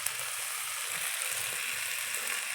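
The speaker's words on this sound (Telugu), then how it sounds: "2 మీడియం సైజ్ టమాటా ముక్కలు వేసుకొని వేయించుకోవాలి." Medium-size tomato pieces frying in a pan, a steady bright sizzle with soft low stirring bumps underneath, close and continuous.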